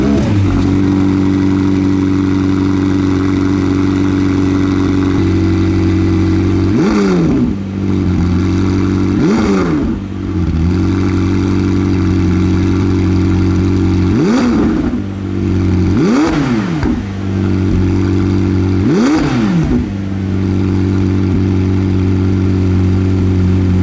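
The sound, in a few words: McLaren 765LT sports exhaust revving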